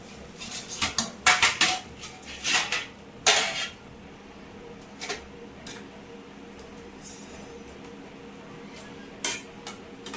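Metal pots and utensils clatter loudly in a home kitchen as boiled spinach is strained for palak paneer, a burst of sharp clanks in the first few seconds, then quieter background with one more clank near the end.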